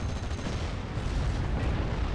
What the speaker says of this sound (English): first being taken out by the explosion of the Bedford supply